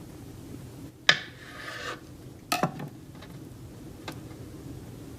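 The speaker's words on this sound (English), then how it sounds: "I'm gonna cut it open so you can see what it looks like inside." A knife slices open a hard-boiled egg with a few short, quiet scrapes and taps close by in an otherwise hushed kitchen.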